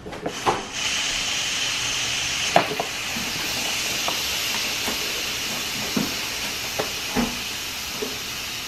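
Steam hisses steadily from a pressure cooker left on slow natural release, a continuous broad rush with a few faint clicks and ticks scattered over it, fairly close and with no talk.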